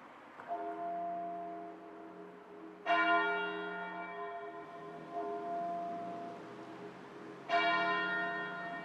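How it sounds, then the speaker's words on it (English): Muffled church bells ring at noon in Marlow, a prosperous English town, with a sustained, resonant tolling; fresh strikes arrive near the start, around three seconds and again near seven and a half seconds, each blooming and decaying slowly with no talk. "muffled bells rang out across Britain"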